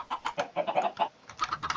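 Quick, repeated Minecraft chicken clucks in short bursts, fairly close and steady, with no talking.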